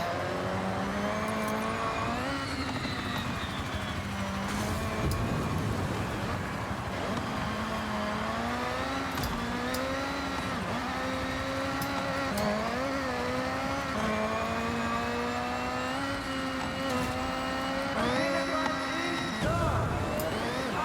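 Engine of a car drifting in Forza Horizon 6, a steady revving whine that rises and falls with throttle through the slides, with brief tyre and impact bursts, loud and continuous throughout.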